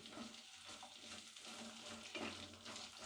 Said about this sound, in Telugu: ఇప్పుడు ఆయిల్ కొద్దిగా వేడైన తర్వాత మనం బెండకాయ ముక్కలన్నీ ఇందులోకి వేసేసుకోవాలి